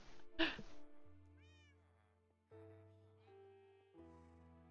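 Cats meowing in Minecraft, a few separate game meows, clear and close, with sustained tones between them and no talking.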